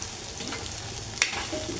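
Hotdogs fry in a small amount of oil, giving a soft continuous sizzle with occasional stirring scrapes and a brief sharper crackle midway, close and without talking.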